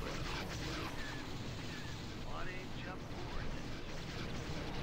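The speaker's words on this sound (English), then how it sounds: "Oh, I think I hit it with an ion cannon." Ion cannon fire striking an Imperial-class Star Destroyer in the space strategy game Star Wars: Thrawn's Revenge, heard as dense, continuous rumbling battle noise with zapping blaster-like sweeps over a steady, loud wash.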